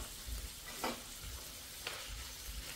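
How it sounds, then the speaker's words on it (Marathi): Chicken liver fries in a generous amount of oil, a soft, continuous sizzle and crackle heard close but fairly quiet, with a couple of brief stirring scrapes. "कलेजी फ्राय करण्यासाठी थोडं जास्तीचं तेल वापरलं म्हणजे कलेजी बाहेरून छान क्रिस्पी होते"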